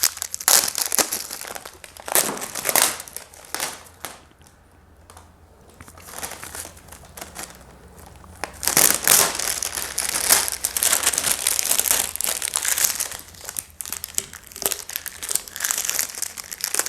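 Polythene packaging around a Monokite kite is pulled open, giving loud, close crinkling and crackling in bursts, with a quieter pause in the middle before the rustling picks up again.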